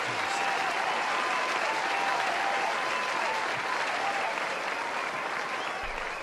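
Crowd applause at a Kaiserslautern versus Fortuna Düsseldorf football match, a steady, distant wash of clapping and stadium noise that stays even throughout.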